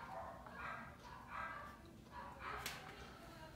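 Several dogs barking at a house, with bursts of barking recurring every second or so at moderate distance over steady background noise.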